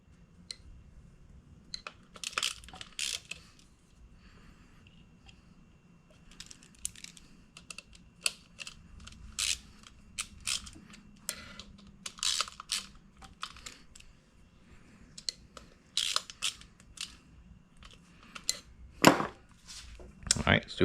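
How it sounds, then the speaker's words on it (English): Small metallic clicks and scrapes of a wrench loosening the three stator bolts and nudging the stator around on a Vespa smallframe engine, sparse and irregular, close and fairly quiet with faint room noise between. "So I'm going to loosen these 3 stator bolts, rotate it back just a tad"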